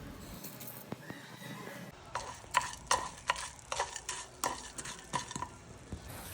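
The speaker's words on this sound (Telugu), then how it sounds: "అందులోనే ఒక 2 టేబుల్ స్పూన్స్ శనగపప్పు, 2 టేబుల్ స్పూన్స్ ధనియాలు, అలాగే 1 టేబుల్ స్పూన్ ఆఫ్ జీలకర్ర వేసుకుని బాగా ఫ్రై చేసుకోండి" Chana dal, coriander seeds and cumin fry in oil in a kadai, giving a soft sizzle and a run of irregular scraping clicks from a stirring spoon against the metal, quiet and with no voices.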